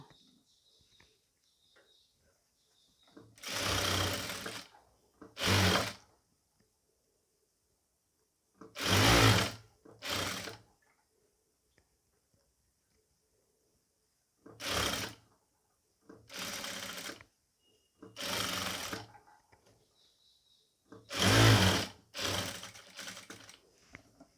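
A sewing machine stitches a round yoke pleated nighty in short bursts of rapid whirring, about nine runs of a second or two each, separated by quiet pauses, close and clear, with no talk.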